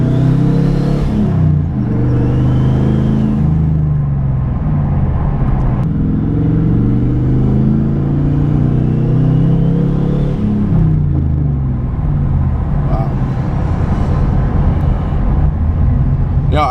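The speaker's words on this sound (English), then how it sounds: "hopefully there's not a lot of traffic, so we can actually maybe hear some turbos" The engine of a turbocharged 2014 Camaro with a single turbo accelerates through repeated pulls, giving a loud, close, steady rumble with rising and falling revs and a faint whir above it, and no clear talk.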